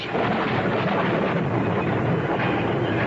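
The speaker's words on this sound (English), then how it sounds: "Yes, it was thunder." Thunder in an old-time radio mystery drama, a continuous deep rolling rumble at steady loud volume that lasts the whole short stretch with no voices over it.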